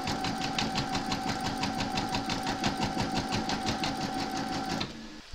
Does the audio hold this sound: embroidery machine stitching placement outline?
yes